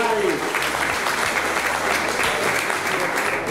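An audience at a cooking-school competition event in Milan breaks into brisk, dense applause, loud and close, continuing evenly throughout with some voices mixed in.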